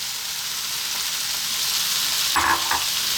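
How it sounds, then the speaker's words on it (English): Cold cooked rice fries with belly pork in a hot pan, a loud continuous sizzle with a couple of brief stirring scrapes near the end. "we're going to put in our cold cooked rice"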